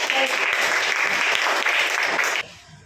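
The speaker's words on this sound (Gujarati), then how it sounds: "તાળી પાડો જોરથી." Students in a classroom clapping loudly together, a dense, sustained burst of applause close by that cuts off sharply near the end, leaving quiet room tone.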